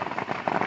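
Rain falls steadily on a campsite in a park, a brief wash of dense pattering drops at moderate volume.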